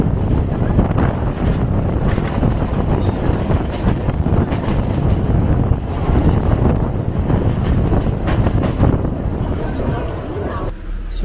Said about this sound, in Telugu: ఇండియాలో ట్రైన్ రేస్ జరుగుతుంది